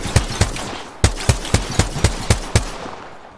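Rapid weapon fire from a tournament match in the video game Apex Legends: about ten loud, sharp shots come in quick bursts with a short pause between them, then fade into a brief tail.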